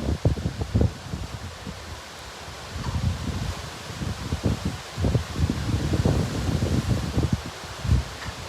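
Gusty wind from Hurricane Ian blows on the Charleston waterfront, heard as irregular rumbling buffets against the microphone with rustling. The gusts rise and fall over several seconds.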